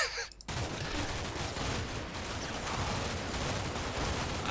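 Heavy gunfire in the Combat Mission Shock Force 2 war game with a high-quality sound mod, a sustained loud crackling barrage of overlapping rifle and machine-gun shots that continues without pause after a brief quieter opening.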